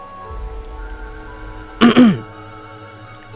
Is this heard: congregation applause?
no